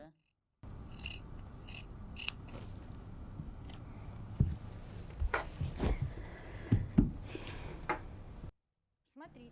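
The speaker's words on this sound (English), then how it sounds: "I've cut just 1 layer of fabric." Scissors snipping through a single layer of sweatshirt fabric to cut a tiny detail, a series of soft, close, irregular snips and rasps under quiet background hum.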